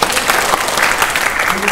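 A storytelling audience breaks into brief, dense clapping, loud and close, lasting under two seconds.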